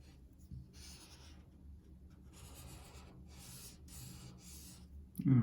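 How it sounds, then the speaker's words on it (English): Felt-tip marker strokes coloring a Charmander drawing on paper: soft, close squeaky rubs in several curved passes, separated by brief pauses, ending in a louder thump as the marker is set down. "I'm curving my marker stroke as well."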